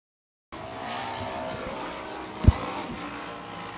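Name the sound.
Youth 1000 race vehicles launching off the starting line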